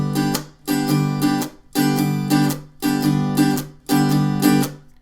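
Guitar plays the intro riff of a song with palm muting: four repeated phrases of choppy, rhythmic strums in a steady groove, each pair of hits followed by a short pause, loud and close with no voice.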